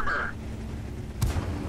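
A single tank cannon shot from a T 92 light tank in the World of Tanks game, a short sharp crack with a low thump, heard once over a steady humming game background.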